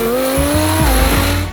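A twin-turbo Lamborghini Huracan drag car tears down the track, its engine roaring loud and close with rising and shifting tones and choppy bursts low in the mix as it pulls hard.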